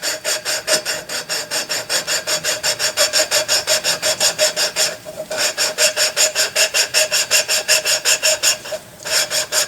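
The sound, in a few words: abrasive compound rubbing during Fairbanks engine restoration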